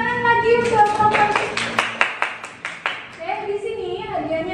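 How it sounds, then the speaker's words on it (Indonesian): Classroom of students clapping for a group, a short burst of brisk rhythmic claps between stretches of a teacher and children speaking. "Oke, beri tepuk tangan lagi untuk kelompok."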